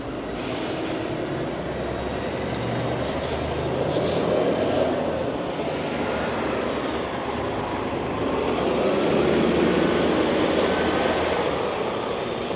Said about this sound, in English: That streetcar's running.